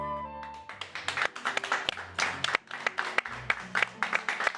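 Applause from an audience at a Spanish-language programme opening, scattered and uneven claps with a fading musical tone at the start, moderately loud throughout.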